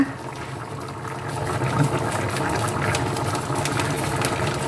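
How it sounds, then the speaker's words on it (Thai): A German pork stew of about a kilogram of pork with a packet of seasoning powder simmers in a pot, giving a steady, dense bubbling hiss that swells slightly and holds at an even level throughout. "เคี่ยวต่อไปอีก 20 นาทีนะคะ"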